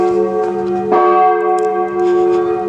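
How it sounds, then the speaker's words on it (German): Loud church bells ring continuously with sustained, layered tones, a fresh strike around one second renewing the peal and its rich overtones. "Jetzt rede ich über die Kirchenglocke, statt über Spontanität zu reden."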